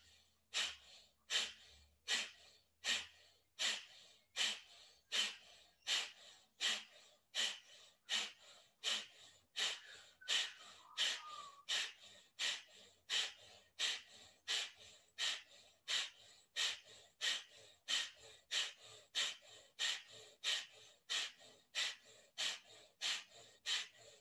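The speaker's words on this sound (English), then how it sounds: "Let's do another round of breath of fire if that feels good." Rapid, forceful breath of fire yoga breathing: sharp, rhythmic nasal exhalations near the microphone, steady at about one and a half per second, continuing for the whole round with no talk.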